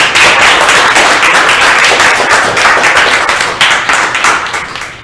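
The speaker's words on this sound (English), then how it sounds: "Round of applause." Dense applause from a crowd at a game jam demo event, many hands clapping rapidly and loudly for several seconds, tapering slightly toward the end.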